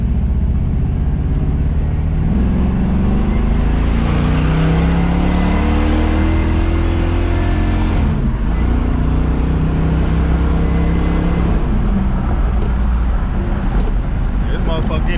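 A car's engine drones loudly from inside the cabin, its pitch climbing and then dropping as the transmission shifts through gears, over a constant road rumble.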